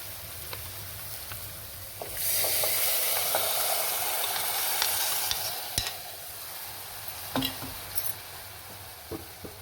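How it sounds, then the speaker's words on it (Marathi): Curd mixture for kadhi tipped into a hot tempering of asafoetida and turmeric in a pan, bursting into a loud steady sizzle that hisses on for several seconds, with a few spoon taps near the end. "आता हे जे दह्याचं मिश्रण आपण तयार केलं होतं ना,"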